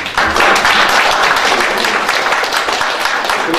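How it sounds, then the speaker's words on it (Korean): Seminar attendees at an international future-studies event on Finnish smart convergence industry break into loud applause, with many hands clapping close and busy before the sound gradually thins toward the end. "박영수 대표에게 다시 한번 박수로"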